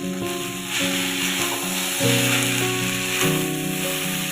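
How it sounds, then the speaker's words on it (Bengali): Chowmein noodles, tossed with fried potatoes, onions and green chilli, fry in a pan with a steady close sizzle and stirring scrapes, beneath sustained musical tones. "লাল লাল মতন ভাজা হয়েছে এবার আমি চাউমিনটা ছেড়ে দিলাম এর মধ্যে"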